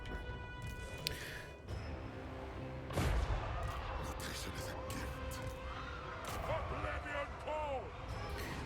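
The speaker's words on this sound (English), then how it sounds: "There goes the hell cannon." Hellcannon artillery in the video game Total War: Warhammer 3 fires with a heavy, booming blast in the middle of a dense battle din of impacts, clashes and distant cries, with no talking.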